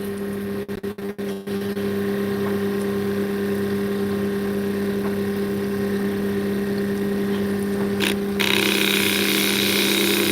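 An opal is polished against a sanding wheel, giving a steady, close motor hum with a whining tone that runs continuously. A few sharp clicks come early on, and a brighter hiss rises near the end. No one speaks.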